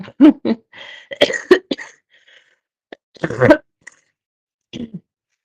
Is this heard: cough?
yes